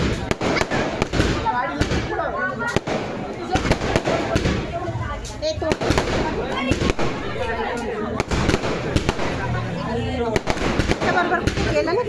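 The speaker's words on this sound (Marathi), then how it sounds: "हे सर्व फटाके गल्लीतील लोकांनी सागरच्या स्वागतासाठी वाजवले होते." A string of firecrackers crackles loudly and continuously in a neighbourhood lane as a welcome after an election procession, with sharp bangs scattered through it and voices heard beneath the noise.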